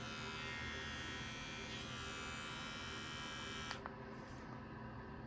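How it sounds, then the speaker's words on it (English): A Manscaped Lawnmower 2.0 electric trimmer running with a steady high-pitched buzzing hum, close and continuous, with a couple of brief clicks near the end. "So you get the Manscaped trimmer."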